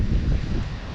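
Strong wind blasts across a misty hilltop at Matheran, a steady loud roar of buffeting gusts close to the microphone, with no voices.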